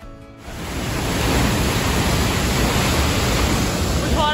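Steady, loud broadband roar of a waterfall near Banff, rising in the first half second and then holding constant and close, with no talking over it.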